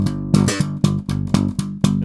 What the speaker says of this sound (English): If your thumb's too rigid, it'll sound like this